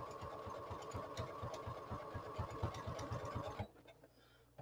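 A sewing machine stitches along the top edge of a book cover up to the board, a fast steady mechanical chatter that runs continuously, then stops abruptly near the end and leaves quiet room tone.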